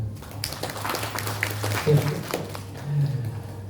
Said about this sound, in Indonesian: Boleh Bapak Ibu tepuk tangan?